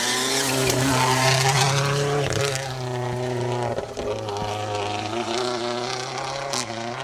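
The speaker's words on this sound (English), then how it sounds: "the hills are very much alive with the sound of rally cars here today in Wales" Rally cars race past on an asphalt stage in Wales, engines droning with shifting pitch and revving in steady waves, moderately near, with spectator crowd ambience in the background.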